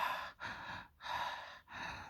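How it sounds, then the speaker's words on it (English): Goblins in a fantasy mobile RPG breathe with a low, wheezing rasp: three long, breathy pulls and pushes in a slow, steady rhythm, quiet and close, with no talking. "you hear a low, wheezing sort of breathing"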